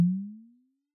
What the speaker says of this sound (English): A 20 mm bubble produces a 150 Hz frequency and sounds like this.